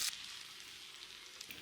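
Two tablespoons of ginger frying in hot sesame oil for lemon pickle: a soft, steady close sizzle with a brief louder crackle right at the start.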